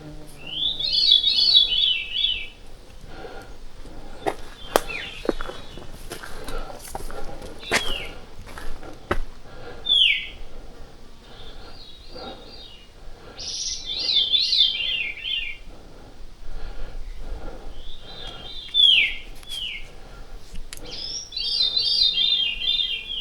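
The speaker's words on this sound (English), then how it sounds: "This bird up here sounds like he's playing a video game." A bird sings in the woods along the Appalachian Trail, repeated bright warbling phrases that come in bursts with pauses between them, moderately close over a quiet background with scattered footsteps and small knocks.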